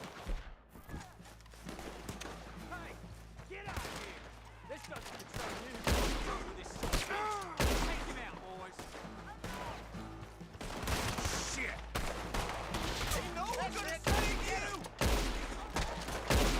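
Red Dead Redemption 2 gunfight: repeated gunshots crack in irregular volleys, some close and loud, some clustered in quick succession, over a low game-music drone with occasional thuds.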